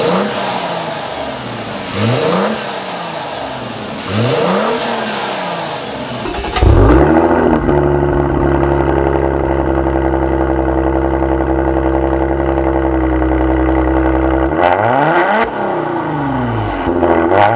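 Maserati Quattroporte GranLusso with a 3.0-litre twin-turbo petrol V6 revved close up: three rising and falling blips, then a long high held rev, ending with further quick blips.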